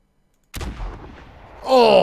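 A new big buffalo rifle in the hunting game theHunter fires a single loud, booming shot. A long rumbling decay follows, then a voice cuts in near the end.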